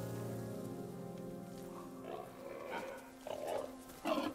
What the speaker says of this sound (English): I'm about to get attacked by a boar